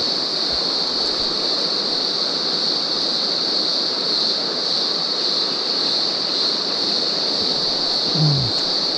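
A river pours steadily over a broad, shallow rock shelf in the Snowy Mountains of Australia, making a constant, full rushing wash that stays even and unbroken, with no voices over it.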